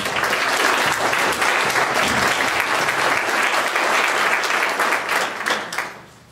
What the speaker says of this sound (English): they deserve a round of applause for what they did